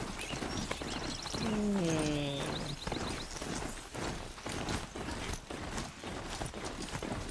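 Horse hooves clip-clopping at a slow walk in the Horizon Zero Dawn game, a steady close rhythm running through dense game ambience with a brief rising whinny-like tone early on.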